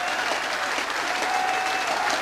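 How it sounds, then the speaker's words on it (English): Football crowd at a Plymouth Argyle versus Bury league match applauds the players at the final whistle, a dense, sustained roar of clapping from a large stadium audience, steady and loud without a break. "deserve all the applause that they get"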